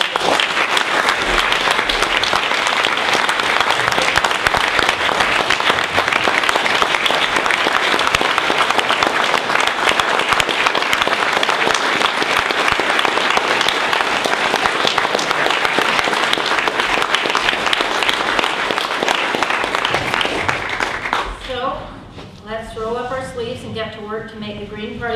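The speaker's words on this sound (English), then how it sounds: "I think we need to have a round of applause for all of the campaign teams" Sustained audience applause for political campaign teams at a Green Party speech event, loud and dense for about twenty seconds before fading out, with faint voices emerging as it dies down.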